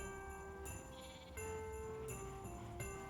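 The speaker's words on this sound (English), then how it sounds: "I feed the baby sheep." A baby sheep in a video game bleats a few times amid looping game music, the calls short and fairly faint against the steady backing tones, with no talking.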